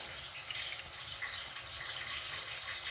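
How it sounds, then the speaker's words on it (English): Tap water runs steadily over amaranth leaves in a container, a soft, continuous splashing hiss with no talking. "I'm going to add water to the Amarathus. This is normal water, guys, from the tap."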